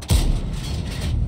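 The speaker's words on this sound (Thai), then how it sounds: "ลองยิงไปสักเม็ดนึงนะ" A single tank cannon shot from a WZ-111 Alpine Tiger in World of Tanks, one heavy, deep boom that fades into a low rumble with no talk.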